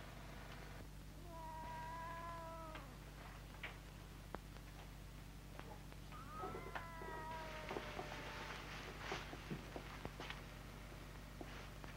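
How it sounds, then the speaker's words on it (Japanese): A cat meows twice, a couple of drawn-out mews a few seconds apart, fairly faint over a steady low hum with small clicks and knocks. "なんだか猫の鳴き声"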